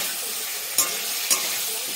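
Ginger-garlic paste and ground mustard paste being stirred in a frying pan for a drumstick and potato curry: a steady soft sizzle with two brief clinks of a spoon against the pan.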